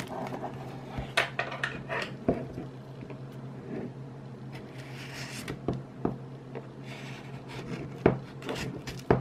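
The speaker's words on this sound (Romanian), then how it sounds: "Să vedem cum reușesc să desfac folia asta." Plastic foil wrap being worked and torn off an HTC One M8 phone box, close crinkling and rubbing broken by sharp scraping clicks and small knocks, irregular and quiet, with no talking.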